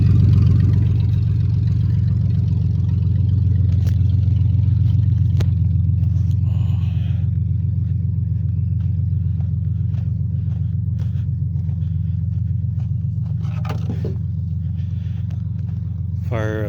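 A 1959 GMC 150 long-bed Fleetside pickup idles with a deep, steady, loping rumble close by, with a few faint clanks and rattles over the engine's constant low drone.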